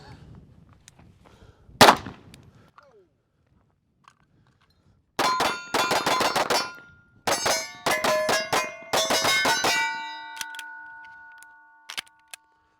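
Rapid strings of rifle shots from a Watchtower Apache firearm ring off a steel target outdoors, bursts of loud cracks each followed by a bright metallic clang and lingering ring, after one earlier isolated shot and quiet stretches.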